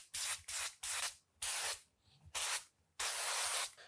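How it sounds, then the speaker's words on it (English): Extra virgin olive oil from a spray bottle misted onto a baking sheet lined with cheese: six or seven loud, close hissing bursts of uneven length with short pauses between them, and no voices. "we're gonna spray this down with a little spray oil."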